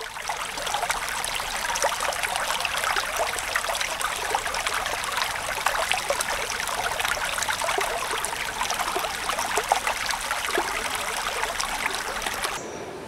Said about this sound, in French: Avec sa cascade haute de 100 mètres qui tombe à grand fracas dans la vallée